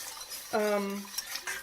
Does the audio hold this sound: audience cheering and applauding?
no